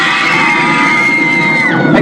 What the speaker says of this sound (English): when everybody saw that ugly dragon, they screamed!